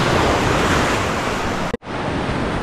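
Sea waves wash continuously onto Cha-am beach in the morning, a loud, steady surf roar with wind noise, broken by one brief dropout near the end.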